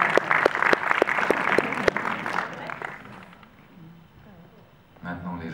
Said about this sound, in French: Vous êtes la dernière salle, applaudissez-vous.